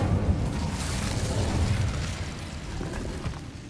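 Incendio fire spell cast in Hogwarts Legacy, a broad roaring whoosh of flame with a rumbling low boom that holds steady for a few seconds before easing slightly, no voices over it.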